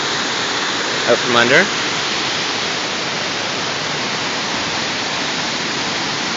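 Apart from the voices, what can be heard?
floodwater pouring from below the road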